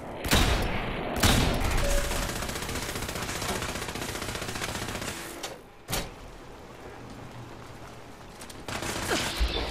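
Rapid automatic gunfire in Fallout 4's Automatron add-on, with dense, sustained bursts rattling close and loud and a couple of sharp heavier reports standing out against the continuous firing.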